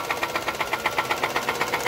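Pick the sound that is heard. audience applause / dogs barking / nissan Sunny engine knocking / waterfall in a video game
nissan Sunny engine knocking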